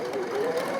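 Sewing machine stitching pintucks into fabric, a steady close mechanical hum running evenly through the short stretch with no pauses or voices.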